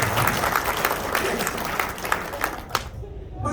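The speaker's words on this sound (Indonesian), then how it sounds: "Tepuk tangan untuk kita semua." Audience at a work-motivation training session applauds, dense clapping from many hands with a few louder claps, tapering off near the end.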